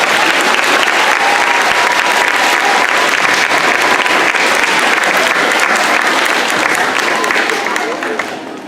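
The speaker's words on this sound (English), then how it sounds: "Can everybody give Miss Bowman a nice round of applause?" An elementary school audience claps steadily and loudly throughout, a dense wash of applause that fades slightly at the very end.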